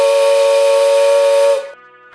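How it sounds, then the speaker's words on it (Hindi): A steam train whistle gives one loud, steady tonal blast that cuts off sharply after about a second and a half, followed by a fainter lingering tone, with no voices. "सन 1860 बिहार में पहली बार रेल की सीटी गूंजी।"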